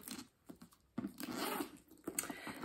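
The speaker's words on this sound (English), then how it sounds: "zipper, nice and easy." Short bursts of a handbag's zipper being drawn open, quiet and close, in a few quick strokes with soft rustling between.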